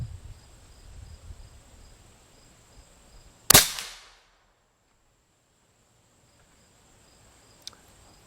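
A suppressed Bin Tac M50 airgun fitted with a Hushcan fires a single round ball outdoors: one sharp, loud crack with a brief decaying tail, set against quiet ambient hum and a faint later tick.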